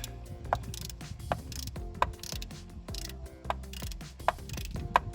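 Up close, a hand ratchet loosens a bolt on a 2016 Chevy Silverado, its pawl clicking in a steady sequence of light ticks and sharper snaps with small metallic mechanical rattles between strokes and no talk.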